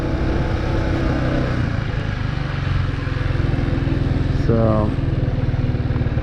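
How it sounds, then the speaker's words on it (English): A motorbike engine runs steadily, its rev pitch climbing near the end as the throttle opens for a start on a steep incline; the engine is close and loud, and a voice speaks briefly over it. "It's not as smooth, but you have to give it a bit more gas whilst you're leaving the clutch."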